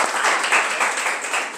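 A short burst of audience applause in a showroom, many people clapping together in a dense, bright, continuous patter that stays loud to the end.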